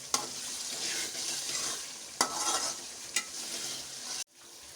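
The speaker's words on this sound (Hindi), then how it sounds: "इसको हम 2 से 3 मिनट तक भून लेंगे।" Masala of onion and spices for a black-eyed pea and egg curry sizzles steadily in a hot pan while a spoon scrapes and stirs, with a few sharp knocks against the metal before it suddenly stops.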